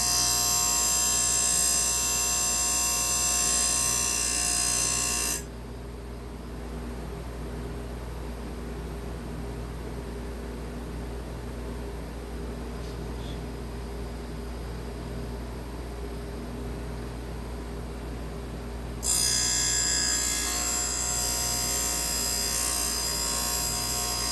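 A CBN grinding wheel sharpening a chainsaw chain converted to square grind on a square jig makes a high, buzzing whine. It is loud at first, drops to a quieter hum through the middle, then turns loud again near the end.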